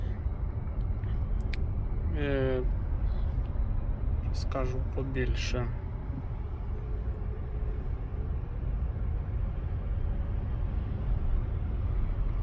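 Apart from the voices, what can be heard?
Jeep Renegade hybrid car driving with engine running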